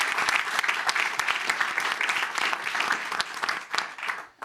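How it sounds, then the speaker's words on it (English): Sustained audience applause at a conference session on industrial water use, dense steady clapping from a sizeable crowd for a youth ambassador, fading slightly at the end. "A round of applause to our youth ambassador."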